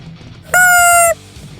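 A rubber chicken lets out one loud, reedy squawk lasting about half a second, a sharp honking wheeze against quiet background noise.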